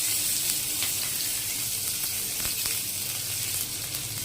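Hot oil sizzles steadily in a pan as nigella seeds go in for a thin rohu fish curry with taro and potato, a continuous close crackling hiss with no voices.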